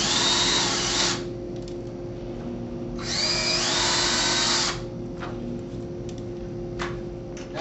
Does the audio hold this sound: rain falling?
no